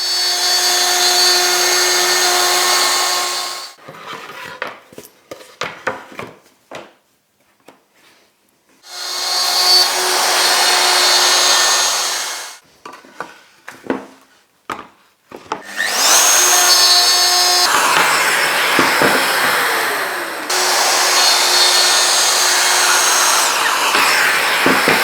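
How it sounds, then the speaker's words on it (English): A router cuts a symmetrical pattern into a wooden panel. Three long, loud, steady whining bursts are separated by quieter stretches of handling clatter and tool spin-down. "I'm going to make a symmetrical pattern on here with 4 cuts with my router."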